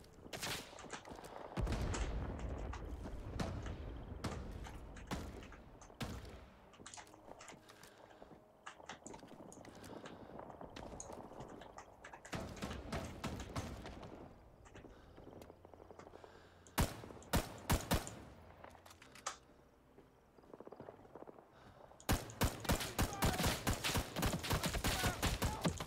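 Sharp gunshots crack repeatedly in a first-person shooter set in Vietnam, with scattered single reports and bursts, loudest clusters near the start and in the final seconds, over a busy battlefield background.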